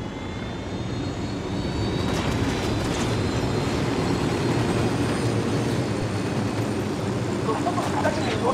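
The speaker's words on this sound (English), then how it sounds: "Helicopter incoming." In the Ghost Recon Wildlands video game, an approaching helicopter gives off a loud, steady rotor-and-engine roar that swells slightly as it nears, continuous throughout with no speech.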